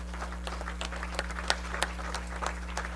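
Sparse, scattered clapping from an audience at an Arya Mahasammelan conference, individual claps ringing out over a steady electrical hum, fairly faint and irregular rather than a full ovation.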